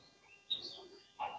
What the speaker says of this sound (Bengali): এই যে এখানে একটা চকা পাখি দেখতে পারতেছেন আপনারা, হ্যাঁ ডাকতেছে একদম।